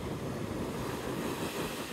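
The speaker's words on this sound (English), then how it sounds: "the water comes up pretty flat onto the beach" Gentle, flat ocean waves washing onto the packed sand at Navarre Beach, a close, steady surf wash mixed with wind buffeting the microphone, with no voices over it.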